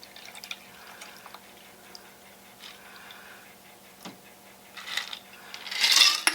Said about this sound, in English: carefully pour your margarita right in there.